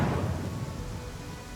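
Steady rain and a low rolling rumble of thunder fill a short stretch of a stormy night in Pathfinder: Kingmaker, loud and continuous with no voices.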